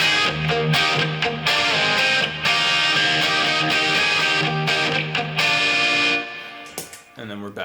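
A distorted electric guitar plays a song, loud and sustained chords with a steady rhythmic drive, breaking off briefly near the end.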